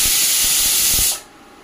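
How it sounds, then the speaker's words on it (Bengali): Pressure cooker whistle on a kitchen stove, cooking quinoa pulao, hissing loudly as steam sprays out for about a second before cutting off sharply. "দেখুন বন্ধুরা, এখন এটা সিটি দেবে, আমি বন্ধ করে দেবো।"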